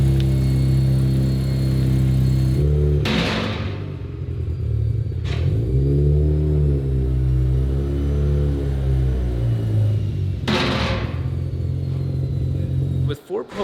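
A Mazda FC rotary car engine idles and revs with a loud, buzzy, harmonic drone that rises and falls through several throttle blips, close up, while voices talk over it.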